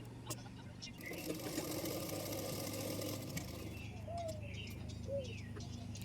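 A sewing machine stitches the side seam of a blouse in a steady whirring run of about two seconds, close and moderately loud, while pigeons coo in the background and someone talks.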